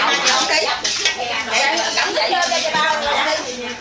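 Shrimp salad being tossed and mixed in a bowl, with continuous close clattering and scraping of utensils against the dish, under overlapping talk.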